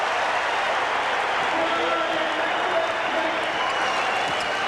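Steady, dense roar of a basketball arena crowd cheering and applauding throughout at the Boston Celtics home game against the Buffalo Braves in April 1978.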